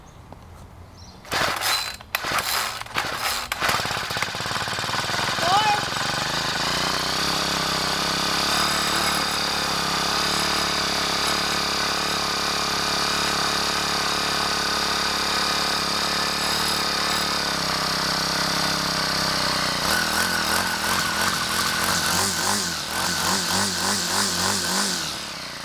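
An old small gas engine pulled over and coughing to life from cold after priming and choke, then settling into a steady, loud, continuous idle with a rhythmic mechanical pulse near the end; no talking.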